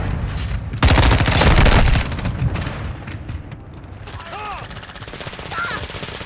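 Gunfire in Call of Duty: Modern Warfare II, with a loud close burst of rapid shots early on, then quieter scattered firing under brief radio-style voices in the match.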